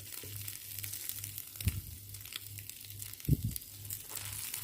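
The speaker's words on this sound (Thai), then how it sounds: "โอ้โห กรอบกรอบเลยจ้าหอมมาก เจียวกรอบกรอบเลยจ้ะทุกคน" An egg omelette frying crisp in hot oil gives a soft, steady crackle under a low hum, with two brief louder clatters partway through.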